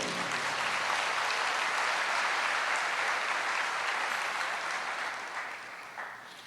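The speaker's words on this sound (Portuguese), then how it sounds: "Aplauda o Senhor, meu querido." A church congregation applauds steadily during a sermon, a dense, loud wash of clapping that holds for several seconds and then thins and fades toward the end.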